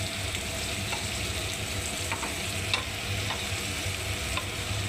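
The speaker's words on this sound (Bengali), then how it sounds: "এবার আমি নাড়তে থাকবো এটাকে।" Fish curry with turmeric frying and being stirred in a pan for macher jhal, a steady close sizzle with scattered scraping clicks from the utensil, no talking.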